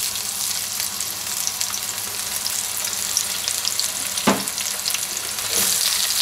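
Onions browning in oil in a casserole dish, a steady close sizzle that runs throughout, with one or two short scrapes of stirring near the end.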